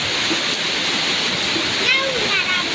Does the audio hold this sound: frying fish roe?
no